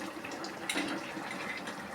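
Water runs steadily while a mixer grinder jar is rinsed in a kitchen, a continuous close splashing gush with a brief louder slosh near the middle and no voices.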